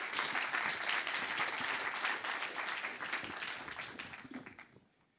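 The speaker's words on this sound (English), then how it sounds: "Applause to Irene." Audience applause at a quantum technologies workshop for young researchers, a full burst of clapping that holds steady, then thins and fades to silence over the final seconds.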